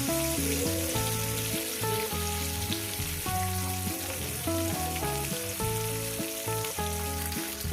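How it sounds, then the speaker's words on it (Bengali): Pieces of bhetki fish frying in a pan, giving a steady, continuous sizzle that runs the whole way through beneath prominent background music. "বন্ধুরা দেখছিলাম কিভাবে ভাজছি, একটু উল্টিয়ে দিলাম।"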